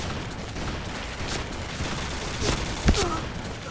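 Sabre shotgun fire in the online shooter Point Blank: a few sharp blasts pop out of dense, steady game noise, with two close reports near the end.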